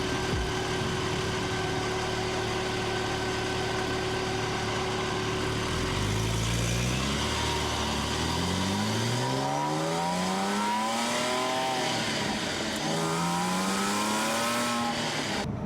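Supercharged 2008 Porsche 997.2 911 Carrera S with a VF Engineering supercharger, settling into a steady, loud idle before several rising and falling revs swell and sweep through the engine's range, with no talk.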